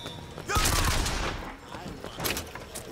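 Gunfire from a three-round burst weapon in BioShock Infinite on PC, a loud cluster of rapid shots bursting in and then trailing off into a clattering, echoing tail of game noise.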